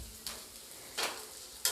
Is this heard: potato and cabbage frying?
yes